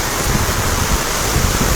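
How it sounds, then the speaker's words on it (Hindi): Heavy rain pours beside the Chenab River near the Salal Dam, a dense, loud, unbroken hiss of downpour with a low rumbling undertone and no pauses. "अभी तेज़ बारिश हो रही है।"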